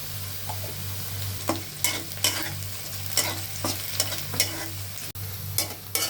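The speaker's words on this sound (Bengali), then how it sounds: "তো এই যে পেঁয়াজ লাল করে ভাজা হয়ে গেছে।" Chopped onions fry in a pan with dried chillies, cinnamon, cardamom and garam masala, giving a steady close sizzle broken by a series of sharp scraping stirs, with no voices.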